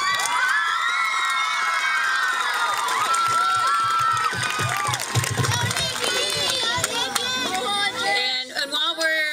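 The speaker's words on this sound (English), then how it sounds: "And while we're cheering" A school crowd of children and adults cheers, shouts and whoops loudly and continuously at an assembly, with scattered applause and high excited voices that fade slightly toward the end.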